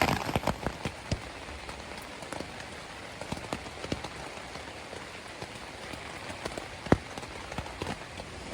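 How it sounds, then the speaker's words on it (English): Steady rain falling on a hiking trail near Bear Mountain, an even patter with scattered sharper drops hitting close by, fairly soft and continuous with no talking. "the rain's gotten a little bit lighter"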